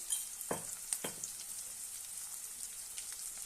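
Coarsely crushed garlic and coriander seeds fry in a pan for methi rasam, giving a faint, steady sizzle with a couple of soft knocks near the start.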